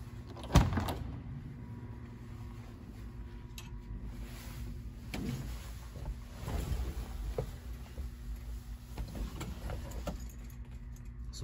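A 1956 Ford F100 pickup truck makes a cold start after sitting for two days: a sharp catch at the beginning, then a low, steady idling rumble close by.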